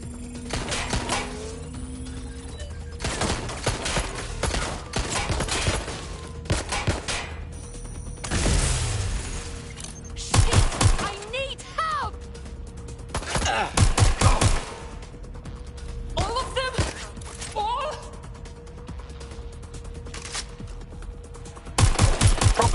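Sustained gunfire in the game We are Legion, a steady crackle of shots with louder close bursts now and then, under a continuous background hum.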